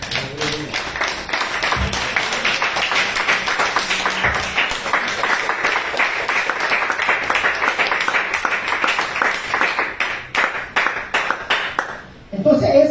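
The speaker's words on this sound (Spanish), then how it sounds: "Den aplausos al Señor." Church congregation clapping hands during a Spanish-language sermon, a loud, fast and steady rhythmic clapping that runs for most of the time, then thins out and stops, with a voice speaking near the end.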